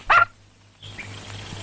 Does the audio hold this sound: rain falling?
no